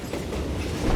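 A train rumbles along the rails in the Western video game Call of Juarez: Gunslinger. A loud, close, steady rolling clatter with heavy low rumble continues throughout, with no voices.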